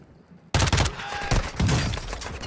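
Rapid gunfire in the video game Warzone 2.0 erupts after a quiet start, close and loud with dense repeated bursts and short pauses, continuing to the end.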